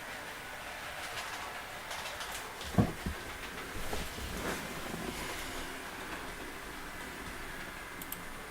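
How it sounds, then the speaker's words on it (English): A quiet model train locomotive from a Union Pacific fleet, running on DC power, makes a soft, steady rolling hum along the track with a few faint clicks and thumps, low and fairly distant. "Here he is, on his merry way. My quietest loco in my whole fleet."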